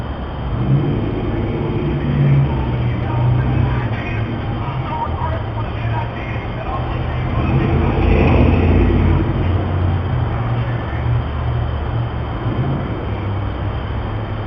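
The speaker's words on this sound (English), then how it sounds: "I can hear the roaring pipes inside my house." A car with loud roaring exhaust pipes heard from about 250 feet away inside a house in Shreveport, a sustained low rumbling drone that swells and fades slightly, with faint background voices underneath.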